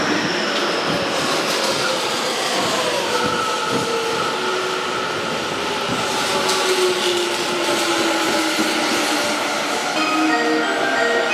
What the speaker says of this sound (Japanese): お、また5万系だ。